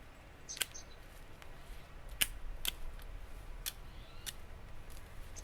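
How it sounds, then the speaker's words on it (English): Hand pruners snipping back the roots of a Japanese maple, several crisp, separate clicks of the blades spread over a few seconds against a quiet background. "Take my pruners. I'm just going to cut them back."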